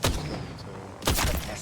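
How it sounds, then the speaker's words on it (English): Video game gunfire: a burst of loud shots at the start, a short lull with some background hum, then another heavy volley of booming shots. "They're shooting."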